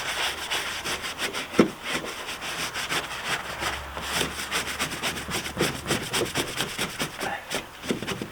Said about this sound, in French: Je brosse.